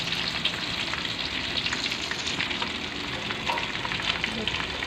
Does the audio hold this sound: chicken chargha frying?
yes